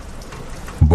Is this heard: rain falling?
yes